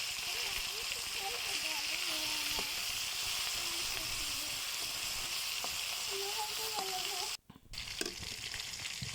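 Ayr fish frying in a pan makes a constant close sizzle under a voice talking. Near the end the sound cuts out for a moment, then a clatter and renewed sizzling follow.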